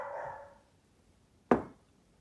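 A pet dog barks indoors in a home painting space, with a single sharp, loud bark after a quieter earlier yelp, then silence.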